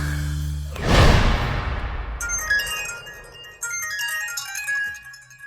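A mobile phone ringtone goes off indoors in a household, a bright repeating electronic melody that starts after a loud whoosh-like hit and keeps ringing fairly close and clear, with no talk over it.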